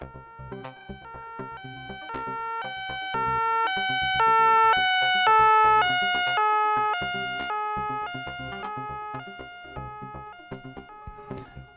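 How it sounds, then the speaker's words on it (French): A wailing police siren rises and falls in pitch with strong harmonic tones, steady and loud throughout, heard alone with no voices. "des sirènes de police se firent entendre"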